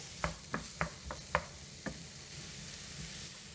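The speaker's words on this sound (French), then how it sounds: "On va y mettre aussi l'échalote. Et on va faire revenir 2-3 minutes." Chopped onion and shallot sautéing in a pan for beef lasagne, with a soft steady sizzle under several sharp, close stirring knocks that come in a loose rhythm before easing off.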